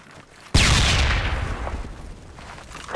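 Sudden loud gunfire in the military shooter Project Reality, a sharp crack with a long rumbling echo and scattered distant shots trailing after.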